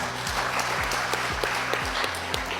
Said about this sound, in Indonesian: Kita kasih aplaus untuk rekan-rekan buruh.